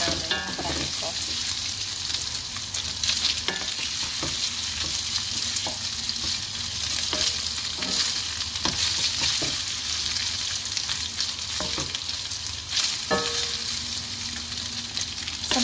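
Korean luncheon meat fries with bitter melon in a pan, giving a continuous loud sizzle with scattered scraping and stirring clicks throughout.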